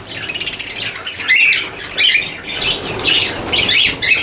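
Young parrots in a nest flap their wings in repeated rustling bursts, loud and close, with occasional squawks mixed in.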